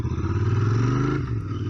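A Royal Enfield Interceptor 650 motorcycle pulls away in first gear at low revs, its engine giving a loud, steady, close thrum that rises slightly before easing off.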